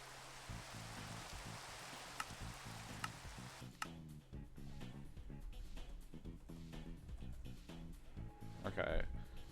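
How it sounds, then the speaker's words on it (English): Minecraft rain ambience, a steady hissing wash of falling rain for the first few seconds before it gives way to soft game music with scattered ticks. "Go to the Minecraft rain noise,"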